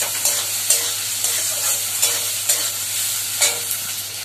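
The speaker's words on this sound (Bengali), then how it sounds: "তো আমার এখানে পেঁয়াজ ভাজা হয়ে গেছে" Chopped onions and garlic sizzle steadily in a hot pan while a utensil stirs and scrapes them in a regular rhythm of close, crisp strokes, with no talking.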